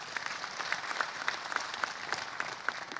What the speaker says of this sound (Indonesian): tepuk tangan untuk KPU